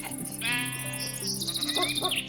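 A baby sheep in Minecraft gives one clear, drawn-out bleat that wavers and trails off, loud and alone without any voices.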